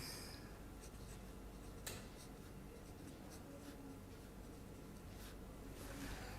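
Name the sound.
drawing a sketch during a lecture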